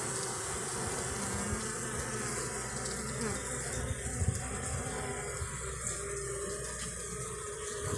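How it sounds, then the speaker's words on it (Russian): Honey bees hum and buzz in a steady, dense drone at an acacia-season apiary, a continuous near swarm sound with faint background noise and no pauses. "А так все работают, пчелки."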